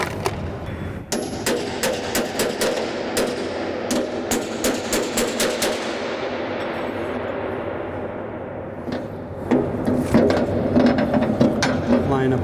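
A ratchet wrench clicks in quick bursts of rapid pawl ticks while bolts are worked up on a grain bin paddle sweep, with metallic rubbing and clanks between the bursts.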